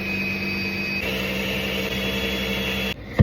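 An electric blender whirs steadily as it mixes a lime and coconut popsicle mixture, a loud, constant motor drone that cuts off abruptly near the end.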